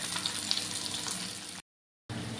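Fish fries in oil in a pan, a close, steady crackling sizzle that cuts out briefly before resuming, with no talking.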